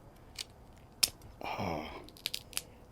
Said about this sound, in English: such a fucking satisfying sound when you're eating crab legs? That, like, crunch